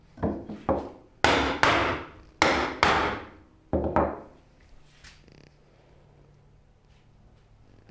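A hammer strikes wood while a rolling cabinet base is built, about eight sharp, loud blows in an uneven rhythm, then the workshop falls quiet.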